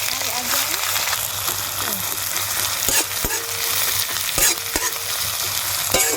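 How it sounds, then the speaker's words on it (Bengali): Chopped onions frying in hot oil with mustard seeds and chilies while being stirred, a steady loud sizzle broken by scraping strokes and clanks of a spatula against the pan, with a voice talking faintly underneath. "পেঁয়াজটা লাল লাল করে ভাজা হয়ে গেছে"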